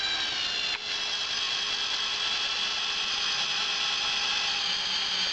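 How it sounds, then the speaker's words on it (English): A power drill bores down through the wooden top plate of a wall from the attic, giving a steady, high whine that holds for several seconds, close by and without talking. "So we're going to drill down, same place that the power people went down."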